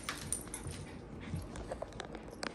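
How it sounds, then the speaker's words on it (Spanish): Small dogs playing at home, with soft scuffling, a light jingle and brief faint whimpering sounds, all fairly quiet and close. "Aquí los perritos jugando."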